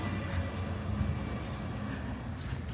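Steady low rumble of a Brussels metro train in motion, a continuous near drone of wheels and motor with no voices over it.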